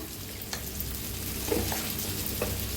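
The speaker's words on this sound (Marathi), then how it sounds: "आता छान असं भाजायला लागलेलं आहे" Spices roast in a pan for quick Marathi-style masale bhaat, giving a steady close sizzle with a few soft scrapes of stirring.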